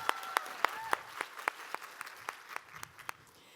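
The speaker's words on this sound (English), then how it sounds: "Can I give a round of applause," Audience at a hair color stage show claps in a steady, sparse round of applause, individual claps spaced evenly and fading slightly over a few seconds, fairly faint with no talk.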